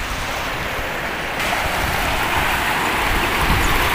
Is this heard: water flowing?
yes